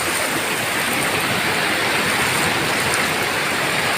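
Sea waves roll onto a beach on a foggy morning, making a steady, dense roar of surf that fills the whole span without pause or any voices.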